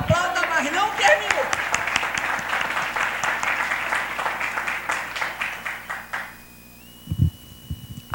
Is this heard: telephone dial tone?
no